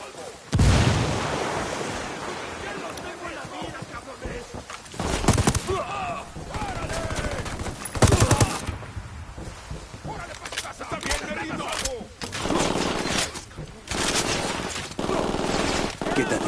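Rapid bursts of automatic gunfire and a grenade blast echo through a firefight in the video game Ghost Recon Wildlands, loud and close, interleaved with voices calling out during the shooting.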